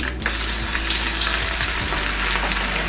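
Spices tempering in hot oil in a pan for a tomato pickle, a loud, steady sizzle and crackle with faint scattered pops, close and alone.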